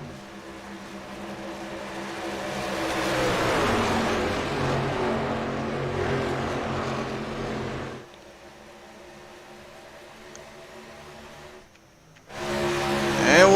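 Racing pickup trucks roar past at Auto Club Speedway in a Fast N Fun Truck Series race, a loud engine drone swelling and fading as the pack passes, then dropping to a quieter hum before another surge.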